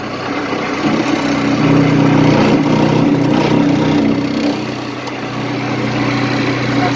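An electric outboard motor newly installed on a sailboat runs with a low, steady hum and a buzzing vibration that rises and dips slightly in loudness over a few seconds, with no speech.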